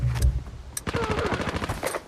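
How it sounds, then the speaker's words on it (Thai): Automatic MP5 fire in the shooter game Arena Breakout, rapid bursts crackling with a fast rhythmic pulse across most of the two seconds, fairly loud and close with no talk over it. "เสียงปืน MP5"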